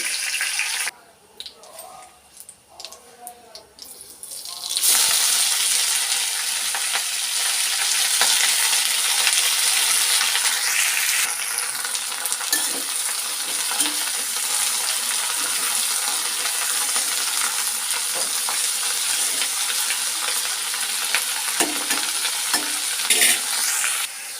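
Cumin seeds and curry leaves sizzle loudly in hot oil in a pan for a tempering, a dense steady frying hiss that starts after a few seconds of quieter clatter and carries on to the end.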